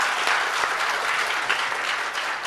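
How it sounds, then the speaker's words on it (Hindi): Loud, steady applause from an audience fills a Bastar education event on the theme "Shiksha hi samadhan", breaking out after a song closes a discussion; dense, even clapping throughout with no voices over it. "एक बार फिर से जोरदार तालियां"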